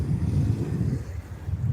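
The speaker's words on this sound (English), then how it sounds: "if it's windy like this." Steady moderate wind on a cold, sunny day in Tokyo buffets the microphone, producing a continuous low rumble with gusty swells and no voices.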